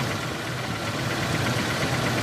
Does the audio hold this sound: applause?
no